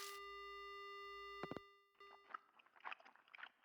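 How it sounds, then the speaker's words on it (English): Phone line tone in the horror video game Spirit Hunter: Death Mark, a steady tonal hum with layered harmonics for over a second, then a few sharp clicks and faint crunching, smacking noises. "The only sound I hear is the dial tone"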